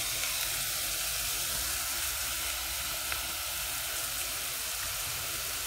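Onion and peppers frying in a pan, a steady close sizzle with soft crackles that holds evenly throughout, heard alone without talking.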